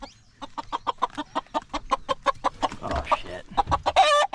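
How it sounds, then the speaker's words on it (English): A rooster being handled in a cage on a Hawaii homestead clucks in a rapid, rhythmic string of sharp calls that builds into a flustered, squawking burst at the end, close to the listener, with a brief startled exclamation from a person. "I got the cage all set up and the rooster's in here"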